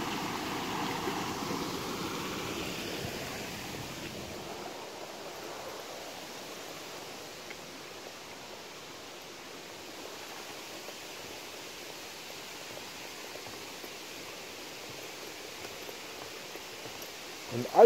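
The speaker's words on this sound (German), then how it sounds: "Durch was für einen kleinen Spalt hier ein Großteil des Wassers abläuft" Water at the Plitvice lakes drains through a small gap, a soft, steady rushing that is louder in the first few seconds, then settles into a faint continuous trickle.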